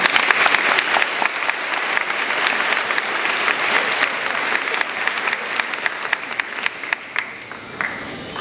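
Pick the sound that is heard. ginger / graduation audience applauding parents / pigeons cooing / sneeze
graduation audience applauding parents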